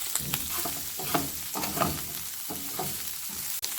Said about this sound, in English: drop in the bok choy and just kind of stir fry this a little bit